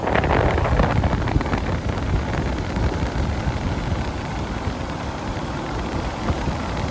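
Comfort-Aire Quietmaster air conditioner blowing cold air from its register, a steady close broadband airflow rush that holds evenly throughout with a buffeting, wind-on-microphone quality.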